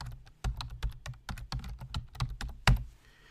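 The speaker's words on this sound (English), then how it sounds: "I'm going to type that in" Fast typing on a computer keyboard, a quick run of close, crisp key clicks that ends with a louder final keystroke, with no voice over it.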